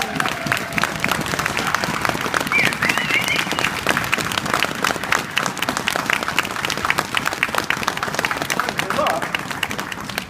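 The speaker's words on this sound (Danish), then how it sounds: "Kom här nu och motta folkets jubel." Audience applause for performers at a Gamla Stan Christmas calendar event, with a singer-pianist among them; dense, continuous clapping rings out loudly for about ten seconds, with voices mixed into the crowd noise.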